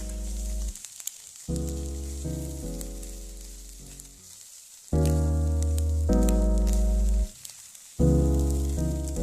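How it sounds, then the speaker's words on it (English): Egg fried rice with chicken and soy sauce sizzles in a pan at home, stirred with no wok, a steady close hiss running beneath loud music throughout. "All I have to do is add a small amount of soy sauce, stir again, and that's pretty much it."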